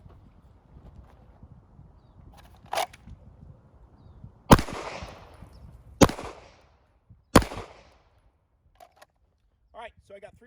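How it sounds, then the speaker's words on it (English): Three sharp gunshots fired at a target five yards away, spaced about a second and a half apart and loud and close, after a quieter stretch with a metallic click and faint handling noise. "I'm going to go ahead and put 3 rounds into this target"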